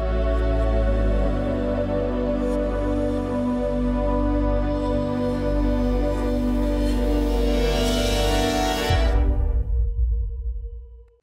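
Sustained bandoneon chords in a different harmonic key, layered with a processed metallic Argentine drum sample, play loud and steady for about nine seconds before the texture drops away into a low resonant tail that fades out.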